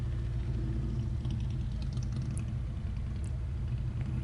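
Indian motorcycle engine running steadily while the rider slips the clutch on a training course, a continuous low rumble held at even volume throughout.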